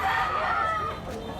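A gamecock in Consolacion, Cebu, Philippines crows once, a loud drawn-out call that tapers off, with faint background noise.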